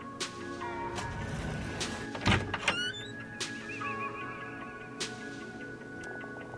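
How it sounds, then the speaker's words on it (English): A door opens in a quiet indoor school setting, giving a short mechanical scrape and clunk in the middle, with steady piano-like tones and background ambience continuing throughout. "I open the door and walk in quietly"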